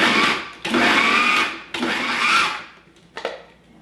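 Food processor pulsing raw vegetables into a fine rice-like grain: two long loud whirring bursts of the blade churning, each lasting about a second, then a short faint pulse.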